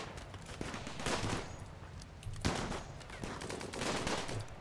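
Gunfire in the video game Rimworld, played on an extreme jungle map: bursts of shots crackle at a moderate distance, coming in uneven clusters with brief gaps between them.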